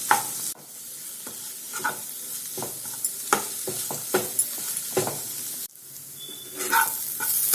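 Chopped onions frying in a pan until brown, a soft steady sizzle broken by sharp scrapes and clinks of a spoon stirring, close by with no talking.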